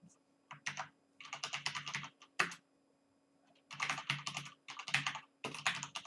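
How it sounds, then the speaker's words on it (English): Bursts of fast keystrokes on a computer keyboard, entering product attributes, come in several runs separated by short pauses, close and fairly quiet. "So basically here I'm just typing"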